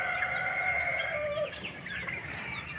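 Chickens and turkey chicks on an outdoor farm cluck and cheep steadily in the sunshine, a moderate, continuous chorus of several birds at close range with no talking.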